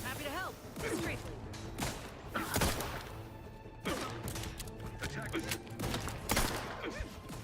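Gunfire in The Outer Worlds 2 rings out as repeated sharp bursts and thumps across a busy firefight, with voices talking over the shots and game sounds.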